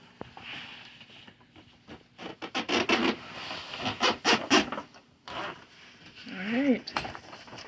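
Zipper on a Vivosun grow tent for indoor vegetables, pulled in several quick bursts with rustling and scraping of fabric between, close by, with a person talking over part of it.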